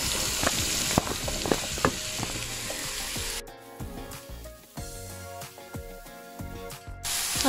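Mushrooms are sautéed in a pan with onion and garlic, giving a loud, continuous sizzle and frying crackle broken by scrapes and stirring clatters; the sizzle drops to a quieter bubbling midway, and there is no talk.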